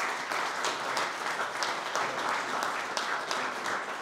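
A gala audience at the Cancom Security Awards 2022 gives sustained applause, a dense, even wash of many hands clapping at steady loudness for the full few seconds, with no talk over it.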